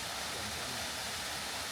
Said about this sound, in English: way out there is Kinsman Falls.